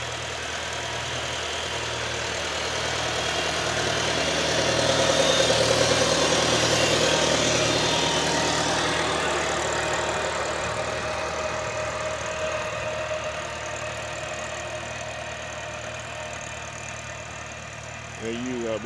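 Tractor engine droning steadily while cultivating a single row of corn, a continuous low rumble with slight swells, fairly close, with someone talking over it.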